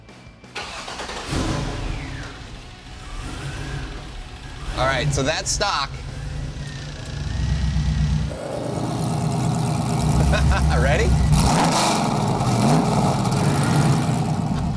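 A stock Chevrolet Trailblazer engine starts and revs in the second half, its steady mid-range drone swelling louder after earlier bursts of handling noise, with people talking over it throughout.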